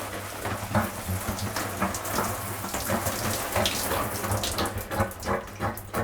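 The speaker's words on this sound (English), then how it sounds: "there's an automatic pump that sucks the water out of the shower tray into the grey waste tank" An automatic pump in a Coachman Imperial luxury motorhome draws water from the shower tray into the grey waste tank, giving a continuous close, splashy watery rush with a low motor hum underneath.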